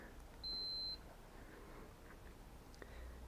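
A multimeter gives one short, clear electronic beep during a continuity check on a fuse in a 2014 Ford Escape Hybrid battery fan circuit, against quiet background noise.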